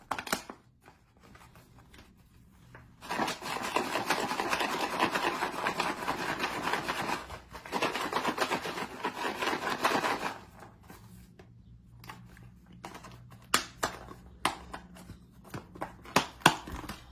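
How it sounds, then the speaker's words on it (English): A closed container holding a baking powder mixture is shaken hard, giving a dense rattling, rubbing rush in two long bursts, followed by scattered light knocks and taps. "Now we're gonna close our container and shake it well to mix all the ingredients."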